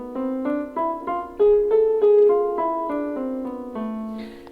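C harmonic minor scale played on a keyboard, about a dozen notes stepping up and then back down at a steady moderate pace, clear and close with no talking.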